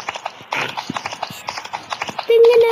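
Horse hooves clip-clop at a quick, even rhythm in a cowboy video game, close and moderately loud, with a voice talking over them and a steady tone entering at the end.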